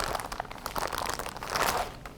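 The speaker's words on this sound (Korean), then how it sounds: "여기 비닐팩에 들어있는 양말목을 꺼내 볼게요." A plastic bag crinkles and rustles as sock loops are pulled out of it, a steady close-up crackling that swells near the end, with no voices.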